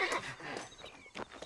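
Horse in the Western video game Red Dead Redemption, snorting and whinnying close by in short bursts over a low murmur of game ambience, with a brief louder huff near the end.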